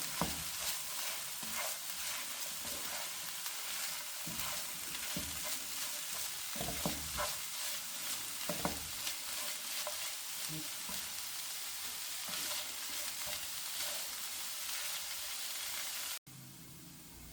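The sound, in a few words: chicken frying in a pan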